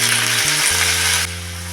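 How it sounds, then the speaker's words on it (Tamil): Washed curry leaves sautéing in a hot pan for a thogayal, a bright continuous sizzle over a low steady hum, close and alone with no talking. "இதை நல்லா சுருங்க வதக்கிங்க"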